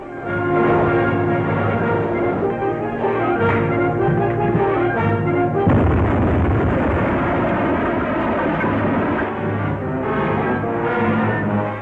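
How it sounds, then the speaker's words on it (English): Torpedoes fired from a submarine in a 1945 film make a loud, sustained rushing roar with rumbling low end, swelling into a heavier surge midway through and continuing dense and continuous to the end. "Fire two. Fire two. Torpedo two fired, sir."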